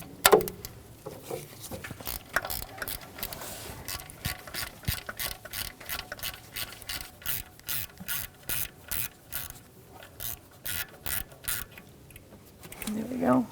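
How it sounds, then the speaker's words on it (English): Deep 10mm socket on a ratchet wrench loosening heat shield bolts on a 2007-2017 Jeep Patriot: rapid, steady ratchet clicking in quick runs across the whole stretch, close and moderately loud, with brief pauses and faint handling noise. "So wrench or socket, I'm going to use a deep 10mm."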